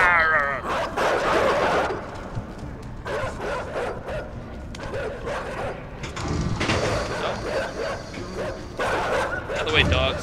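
Dogs bark and yip in the side-scrolling game INSIDE, bursts of barking coming and going over game ambience, with someone talking over much of it.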